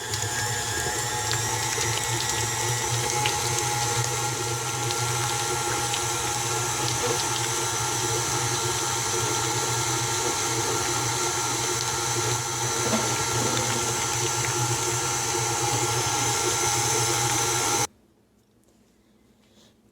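Electric stand mixer beating butter and shortening for homemade buttercream icing, a steady loud whirring motor hum with constant churning that runs continuously, then cuts off abruptly near the end leaving near silence.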